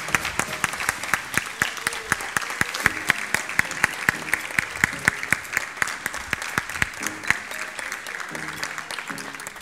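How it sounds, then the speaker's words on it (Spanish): Audience applause at a kindergarten graduation ceremony, a sustained, even round of many hands clapping close by, holding its level for nearly ten seconds. "Y nosotros vamos preparando el aplauso para Mateo."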